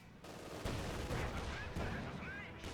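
Machine gun fire in the Company of Heroes 2 real-time strategy game, heard as dense repeated bursts within a busy battle soundscape of distant explosions and gunfire, steady and fairly loud throughout.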